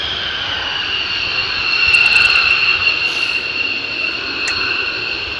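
An F-100 jet fighter's engine gives a loud, steady high-pitched whine over a rushing roar, swelling briefly in the middle.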